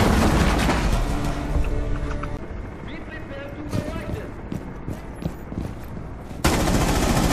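Video game gunfire rattles in repeated bursts and single shots with booming impacts throughout, while excited voices talk over the action.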